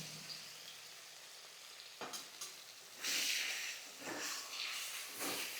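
Potatoes fry in hot oil in a home Bengali kitchen, a steady sizzle that swells louder about halfway through with stirring scrapes, close and without talk.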